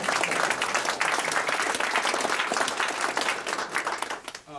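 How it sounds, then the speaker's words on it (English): Applause from members at a radio club's 50th anniversary meeting, a full burst of many hands clapping close by that tapers slightly near the end. "we'll applaud now"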